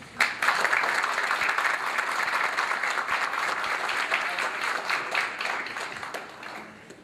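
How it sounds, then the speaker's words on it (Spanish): A forum audience on political party legislation in El Salvador applauds steadily, a dense, sustained burst of many hands clapping that holds at full strength for several seconds before tapering slightly at the end. "Para todos ellos les pido un fuerte aplauso."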